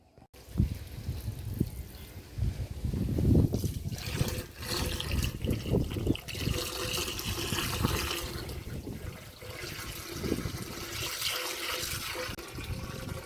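Tap water runs steadily into a dragon-pattern clay jar holding red lotus rhizomes, a continuous close splashing and filling rush that swells and gurgles for the whole stretch with no talking.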